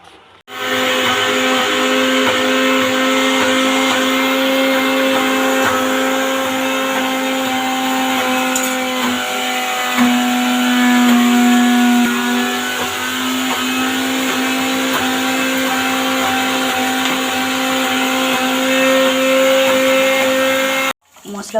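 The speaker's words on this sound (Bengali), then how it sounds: "মশলাগুলো সব বেটে দিয়েছি, আদা রসুন পেঁয়াজ" An electric mixer grinder whirs steadily for a long stretch while grinding spices, ginger, garlic and onion. The motor drones loud and continuous with a steady hum, then cuts off abruptly at the end.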